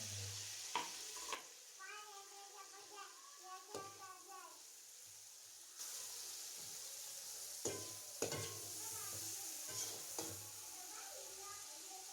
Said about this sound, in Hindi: अब हम प्याज को फ्राई करेंगे।